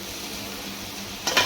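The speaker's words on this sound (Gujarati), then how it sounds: "આપણે બધા રાઈસ મિક્સ થવા માંડ્યા છે" Schezwan fried rice stirred in a large pot, a steady soft scraping and sizzle throughout with a brief louder clatter of the utensil near the end.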